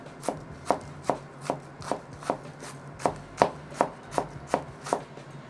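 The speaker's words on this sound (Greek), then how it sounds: "πολύ ψιλοκομμένο κόκκινο λάχανο" A knife finely chops red cabbage on a board in a steady, even rhythm of about a dozen crisp strokes, close and clear with no talking.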